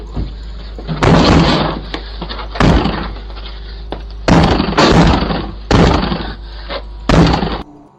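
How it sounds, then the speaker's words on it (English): Two men kick and charge at a front door, producing five heavy, loud booming impacts at irregular intervals with quiet gaps between them, close and without speech. "charging at the door and kicking it as hard as he could"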